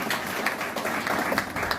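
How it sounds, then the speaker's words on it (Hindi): An audience at a school gathering claps in a brief, steady burst of applause with scattered sharper claps standing out, fairly close and without talk over it. "एक बार आपके सम्मान में एक बार सबको ताली बजा दें"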